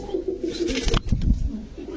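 Pigeons for sale coo in a low, repeated rumbling burble, close by, with some wing or body rustling in the middle of the short stretch.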